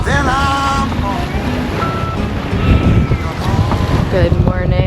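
Strong wind and squalls buffet a sailboat at sea on a gray morning, a steady roaring rush that swells in gusts, with tonal music playing underneath.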